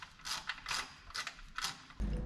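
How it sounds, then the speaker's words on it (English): A torque wrench tightens 15 mm bolts on a Trans Am WS6 twin turbo build. Four quiet, evenly spaced ratcheting clicks are heard close by, followed by a brief louder mechanical clunk at the end. "it's not a bad time to go ahead and torque down this again"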